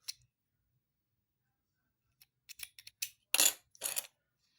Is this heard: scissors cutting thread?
yes